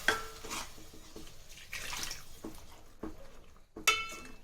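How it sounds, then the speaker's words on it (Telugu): Water from a mixer jar is poured into a cooking pan, giving soft splashing and dripping, with faint clinks of the jar against the pan, quiet and close. "సో ఆ మిక్సీ జార్ ఉంది కదా, దాంట్లో నీళ్ళు వేసేసి అది ఇందులో వేస్తూ ఉన్నాను నేను"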